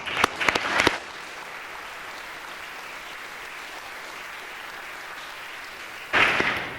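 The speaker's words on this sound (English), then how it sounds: "Okay, let's give him a round of applause." Applause from an audience at a school chapel service: a short burst of clapping with a few sharp individual claps, a quiet hushed stretch, then the clapping swells again near the end.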